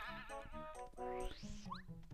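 A cartoonish sheep bleat plays as the Sleepy Sheep item appears in the Paper Mario video game, a short wavering cry over game music with a rising synth sweep and a chime.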